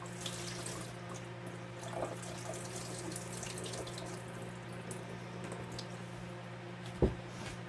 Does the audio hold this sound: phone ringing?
no